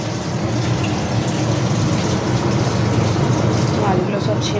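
Water boiling hard in a cooking pot gives a dense, steady bubbling rush throughout, close and fairly loud, while a voice talks over it.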